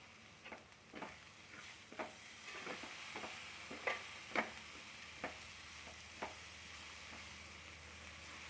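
Bitter gourd fry with chopped coriander cooking in a pan on the stove: a low, steady sizzle broken by a series of sharp spatula scrapes and taps at irregular intervals, close and fairly quiet.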